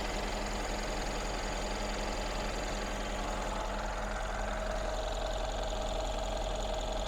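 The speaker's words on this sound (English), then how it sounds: "let's just have a listen at this idling V8" A 2012 Mercedes E550 Cabriolet's twin-turbo V8 idles steadily, a low continuous rumble with a faint mechanical whine, heard close and alone without voices.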